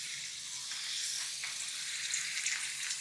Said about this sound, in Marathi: आता हे बटाट्याचे काप तेलामध्ये तळून घ्यायचे.